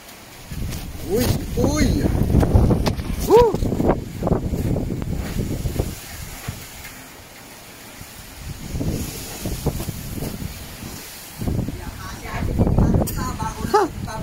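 Strong typhoon wind roars and gusts in loud, surging waves over about fourteen seconds, easing briefly midway before building again, with people talking intermittently over it.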